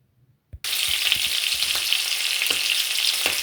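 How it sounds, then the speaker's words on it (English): Rabbit meat browning in olive oil and margarine in a pan: a short quiet lead-in, then a loud, steady sizzle with a few soft knocks from the pan. "here is the rabbit that I'm browning in the pan"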